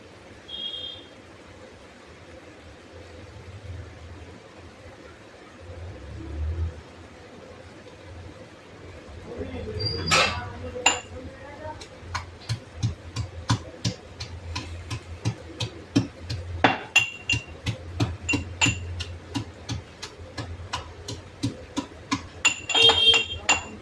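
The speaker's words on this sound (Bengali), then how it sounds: "আর এখানে কাঁচা লঙ্কা দেবো দুটো সবজিতে, একটুখানি থেতলা নিয়ে থেতো করে নেবো।" Green chilies are crushed for a vegetable dish, a run of sharp repeated tapping and pounding knocks in quick rhythm, close by, after a quieter stretch with faint background.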